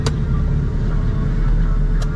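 K20 turbo EF sedan engine idling at about 1,000 rpm, a steady loud low rumble with no revving, and two brief faint clicks at the start and near the end.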